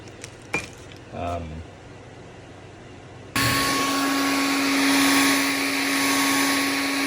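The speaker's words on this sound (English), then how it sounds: "And then dry it with a hairdryer." A hair dryer blows steady and loud to dry a cleaned transmission valve part from a Jaguar XK8, switching on abruptly after a few clinks and some brief talk.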